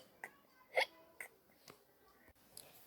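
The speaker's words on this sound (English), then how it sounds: "He has got the hiccups." Hiccups from a cartoon ghost character, several short sharp hics at irregular intervals, one especially loud, close and alone with no talk.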